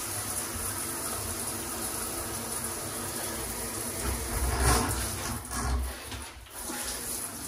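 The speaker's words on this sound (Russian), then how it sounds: "Так работает душ у нас." A hotel shower at the Sheraton in Nizhny Novgorod runs with a weak, low-pressure flow, giving a steady close hiss of falling water that swells briefly near the end.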